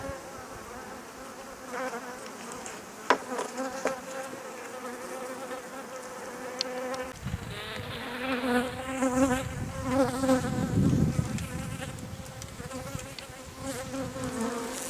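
Honey bees buzz continuously, a dense droning hum that swells louder in the second half, with individual insects passing close.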